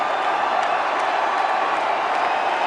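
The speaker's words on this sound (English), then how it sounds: "The crowd getting happy." Cricket crowd at Indore cheering and applauding, a steady dense roar of many voices and claps throughout with no break, loud and continuous.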